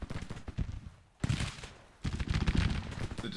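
Infantry skirmishers in a Civil War game fire in ragged volleys, with bursts of crackling musketry in two dense stretches and a brief lull between, loud and close.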